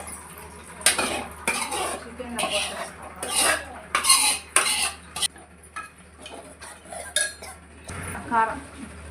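A metal spoon scrapes and clanks against a pan in repeated uneven strokes while chicken kurma is stirred, with a faint sizzle underneath.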